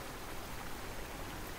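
Steady rain in Touhou Genso Wanderer, a soft, even hiss of falling drops heard at a distance, continuous and unchanging with no voices over it.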